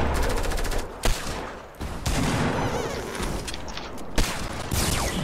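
Fortnite battle royale gunfire in a duos match: rapid bursts of automatic shots with a few sharper single cracks, loud and close, firing in quick rattling runs with brief gaps.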